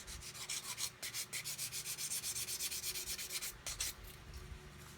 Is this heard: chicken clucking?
no